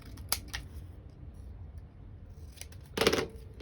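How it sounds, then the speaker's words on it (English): Scissors snipping a small piece off during a home organizing craft project, a few quick close cuts spaced apart over low room noise, with a louder snip near the end. "I'm actually going to cut a little bit of this off"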